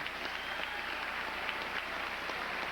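A large crowd applauds steadily at the 1994 State of the Union, a dense, sustained wash of clapping with no voices over it.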